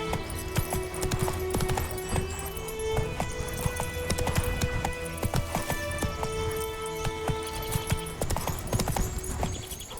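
Hooves of Roach, a horse in The Witcher 3, pound rapidly and loudly in a continuous galloping rhythm, dense and unbroken under a busy game soundscape.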